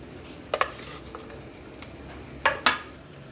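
Coriander seeds, cumin and crushed red chili flakes are mixed into gram flour for besan roti. A spoon clinks and scrapes against a bowl in quick pairs, with quiet stretches between, and no voices.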